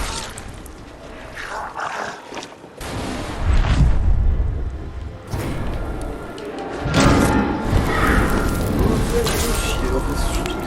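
Fiery zombies exploding in the video game Dead Island 2, with heavy booms and rumbling blasts that come in bursts across the clip, close and loud, alongside game noise and someone talking.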